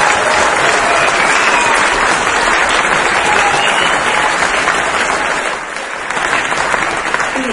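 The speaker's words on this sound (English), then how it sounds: "And you need to applaud really loud for them." Loud, dense audience applause at a brass band contest in New Zealand, sustained clapping from a large crowd that eases slightly near the end.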